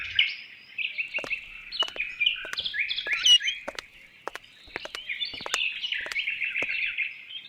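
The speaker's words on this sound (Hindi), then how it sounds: "आपके लिए पंछी लेके आ रहा था।" Small birds chirp and tweet steadily up close in a bright, continuous chatter, with scattered sharp clicks and taps mixed in and no voices.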